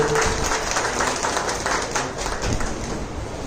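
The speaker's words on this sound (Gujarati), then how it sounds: "તાળીઓ ચાલુ રાખો." Sustained audience applause at a felicitation ceremony where bouquets are being presented, a dense, steady clapping that stays fairly loud throughout with no voices over it.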